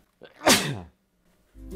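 A single loud, close human sneeze with a sharp burst, followed by a short silence and then faint low rumbling noise.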